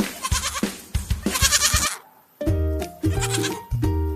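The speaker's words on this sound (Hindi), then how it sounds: "सही जवाब, ये तो बकरी है, छोटी बकरी।" A small goat bleats loudly and close by in several quavering calls, with a short pause partway through before it starts bleating again; no talking is heard.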